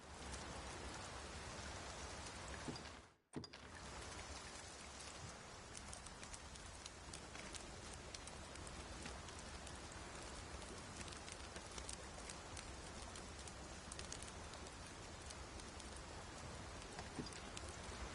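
Steady rain pours down over a campsite in the video game Dragon's Dogma 2, a dense, even hiss that is broken only by a brief dropout near the start and otherwise continues unchanged.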